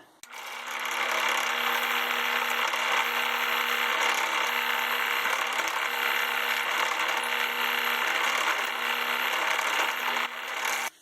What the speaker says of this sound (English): the reason I'm peck drilling like that, going in and out, is to clear chips off of the drill bit